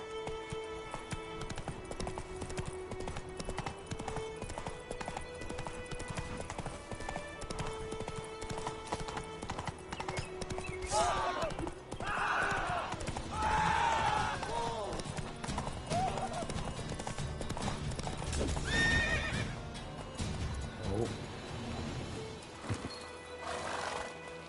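A horse in The Witcher 3 gallops with steady rapid hoofbeats throughout, loud and close, and neighs sharply a few times partway through, with game dialogue spoken over it.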